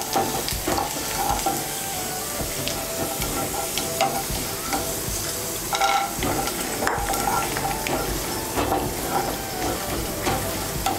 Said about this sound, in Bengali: বাদামটাকে একটু ভালো করে ভেজে নেব।